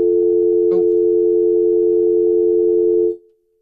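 A steady, loud telephone busy tone hums without a break for about three seconds, then cuts off abruptly with no voices.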